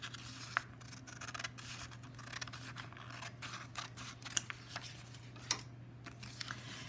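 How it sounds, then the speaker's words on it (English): Scissors snipping through paper, trimming a folded sheet into a square for a six-sided cut paper snowflake; a run of short, close crisp cuts and rustles over a low steady hum, with no talking. "Now go ahead and cut off your extra in order to make a perfect square."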